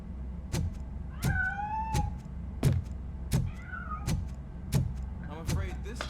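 A cat meows twice in the video game RoboCop: Rogue City, rising mews over regular heavy mechanical footsteps. A voice speaks quietly in the background.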